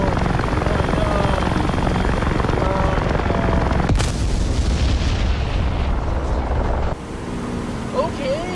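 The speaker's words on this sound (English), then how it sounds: "this guy back there, the MI-24, looks like he's trying to set down" An Mi-24 helicopter in the DCS flight simulator rumbles loudly with a dense, continuous rotor and engine roar that shifts abruptly partway through, while a voice talks over it.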